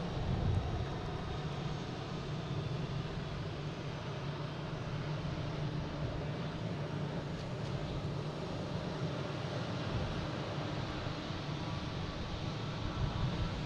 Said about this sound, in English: We have United Airlines coming in from Newark, in A319